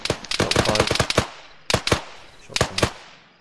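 Loud, close gunfire from a fire team in the video game ARMA, rapid bursts of automatic shots in three clusters separated by brief pauses.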